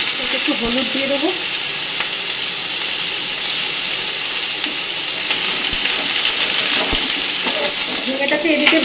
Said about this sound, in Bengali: ঝিঙেটাকে এদিকে ভাজতে দিয়ে